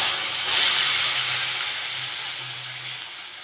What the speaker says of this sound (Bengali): আমি এবার ক্যাবড়ার টকগুলো দিয়ে দেবো।